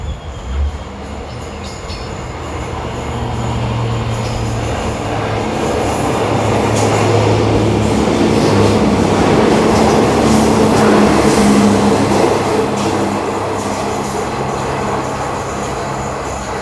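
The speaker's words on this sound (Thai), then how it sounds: "บนนี้เป็นดีเซล รางนั่ง ปรับ อากาศนะครับ ผม รถดีเซล ราง แดบู ไฟสองดวงมาสวย งามนะครับ" An air-conditioned diesel railcar train passes through the new Ban Takhli station on a double-track line, a loud rolling rumble with rhythmic wheel clatter that swells and holds as it goes by.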